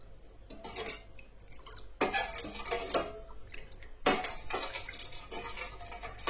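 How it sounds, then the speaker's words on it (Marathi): Horse gram flour and water being stirred in a metal pot, giving steady scraping, clinking spoon-against-pot strokes and soft sloshing close by, with regular rhythmic pulses and no talking. "सो हे बरे तरेन आता मिक्स करून घेया."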